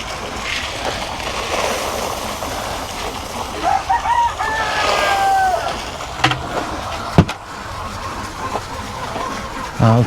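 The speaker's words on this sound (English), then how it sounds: "good morning, chickens" Farm chickens cluck in a yard, with a rooster crowing partway through, moderately close, over steady outdoor background noise and a few sharp knocks.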